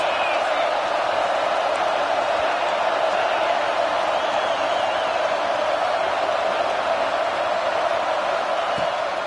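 A football stadium crowd roars steadily on third down in a Texas vs Clemson game, a dense, continuous wash of cheering that holds at the same level throughout.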